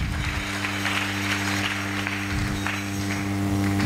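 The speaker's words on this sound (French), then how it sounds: "Acclamons très fort" A church congregation breaks into sustained applause, a dense, even wash of clapping that holds steady throughout, with no voices standing out above it.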